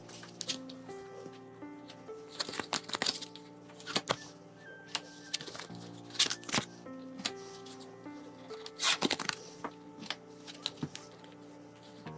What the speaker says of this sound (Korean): 1번 카드 뽑아보겠습니다.